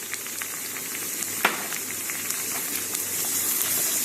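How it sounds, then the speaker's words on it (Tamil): Three large finely chopped onions sauté in hot oil in a pan for egg rice, giving a continuous close sizzle that swells slightly toward the end, with one sharp stirring clack. "பொடியாக அரிஞ்சு அதை உள்ளே போட்டு நல்லா வதக்கி எடுக்கணும்"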